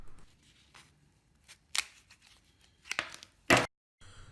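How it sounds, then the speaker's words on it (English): Scissors or tin snips trimming replacement door weather stripping, a few separate crisp snipping cuts spaced irregularly, close and fairly quiet against a near-silent background. "trim with scissors or tin snips"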